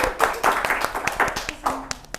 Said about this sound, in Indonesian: tepuk tangan dulu dong buat Udara